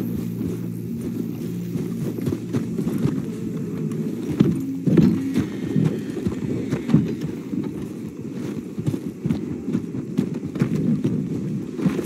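Horse hooves clip-clopping steadily in Red Dead Redemption 2, a continuous walking rhythm with light wind noise and no talk.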